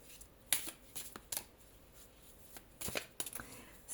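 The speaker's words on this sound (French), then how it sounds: "On va quand même tirer une 4e carte." Tarot cards being shuffled and drawn by hand give soft, quiet riffles and papery flicks in a few short bursts, close and without talk.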